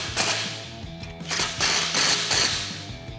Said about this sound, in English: And then 6mm Allen wrench and 17mm socket to tighten this.